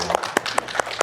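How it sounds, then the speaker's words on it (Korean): Audience applause at a talk show held in a gallery: a quick run of about five sharp, evenly spaced claps, close and fairly loud. "박수 한번 주시죠."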